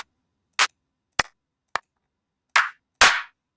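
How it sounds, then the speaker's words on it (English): Five sharp, dry clap hits from a music sample pack play one after another with silence between them, the last two fuller and longer. "So that's one clap."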